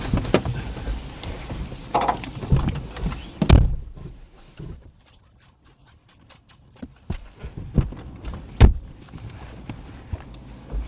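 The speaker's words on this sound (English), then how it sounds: "which hand did you use to open my car door?" Mechanical clunks and thuds of a car door being handled, with a sharp latch sound, scattered rustling and a quiet stretch between.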